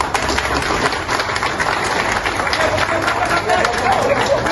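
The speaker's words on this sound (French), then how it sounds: "un grand applaudissement pour l'idée de sa présence là" Outdoor crowd at a political gathering applauding, dense continuous clapping mixed with cheering and chatter, loud and sustained throughout.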